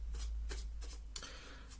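Tarot or oracle cards being shuffled in several short riffling bursts, close and fairly quiet, with a brief sharp tap near the end.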